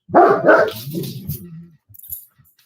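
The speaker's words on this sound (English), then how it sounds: "barking at a bird" A dog barks twice in quick succession, loud and close, followed by a few softer grumbling yips and small muffled noises.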